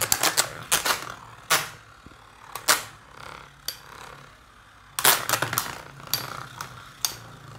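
Beyblade spinning tops, Eldrago against Pegasus, clashing in a stadium after launch: a run of sharp clacking impacts and rattles in bursts, close and fairly loud, with quieter whirring between hits and no talk.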